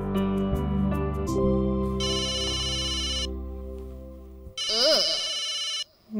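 A phone's electronic ringtone rings in two loud bursts with a short pause between, after a stretch of background music.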